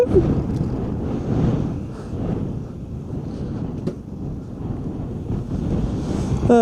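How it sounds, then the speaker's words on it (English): Steady outdoor wind buffets the microphone, a broad continuous rumble that swells and eases slightly throughout, with no voices. "it's wind"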